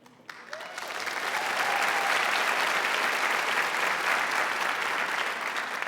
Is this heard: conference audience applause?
yes